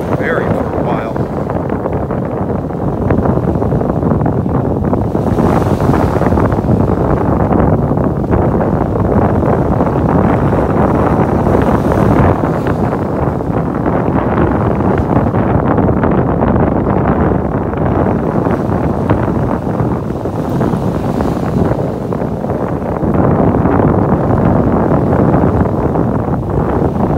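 Wind blows hard across a beach in North Naples, Florida, buffeting the microphone with a loud, continuous roar that rises and falls slightly in gusts for the whole stretch.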